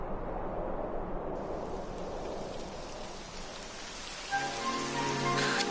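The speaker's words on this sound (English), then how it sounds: "It would have to go and start raining, wouldn't it?" Rain begins in the video game Dragon Quest XI S, a steady hiss of falling drops that swells and thickens into a denser downpour, with no voices over it.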